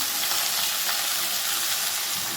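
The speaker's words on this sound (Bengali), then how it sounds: "ভাপানো ব্রকলিগুলো আমি ভাজাতে দিয়ে দিলাম।" Steamed broccoli frying in a pan gives a steady, close sizzle that holds evenly for the whole moment, with no voices over it.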